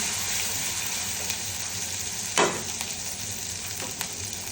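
Eggplant slices fry in a pan with turmeric and chilli, giving a steady, close sizzle with one brief louder clatter of stirring midway and a fainter one near the end.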